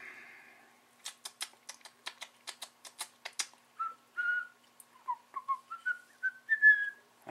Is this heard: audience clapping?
no